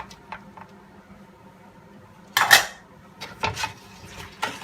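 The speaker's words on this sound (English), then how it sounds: "Always making sure you stir the ingredients into the mixture." A garlic and chili jam mixture stirred in a pan, heard as a quiet background with a few soft clinks, then one loud spoon-on-pan scrape followed by several shorter scraping knocks.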